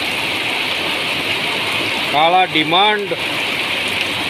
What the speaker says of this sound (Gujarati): આકાશમાંથી વરસાદ વરસી રહ્યો છે